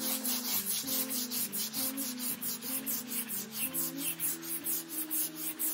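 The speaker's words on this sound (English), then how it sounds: "try to get some of that roughness off of it from the 80 grit" Wood is sanded by hand with 80 grit sandpaper in quick rhythmic back-and-forth strokes, a close, raspy scratching repeated evenly without pause.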